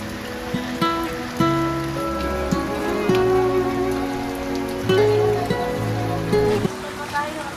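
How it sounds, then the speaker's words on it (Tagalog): Raindrops fall steadily, an even patter heard close, with voices and a melodic tone rising and falling over the rain throughout. "At habang ina-enjoy ang patak ng ulan"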